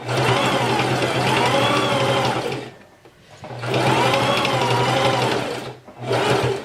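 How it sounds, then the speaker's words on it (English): A sewing machine stitches a back tack across a face mask, running in two long steady bursts with a short pause between them, then a brief final run, close and clear with no talking. "I'm going to do a little back tack just to make sure that's good and caught and secure, and then continue sewing over it."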